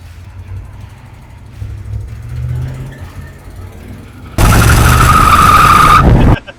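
A big block El Camino's tires squeal and skid in a loud, sustained burst lasting about two seconds, following a stretch of engine rumble and background noise.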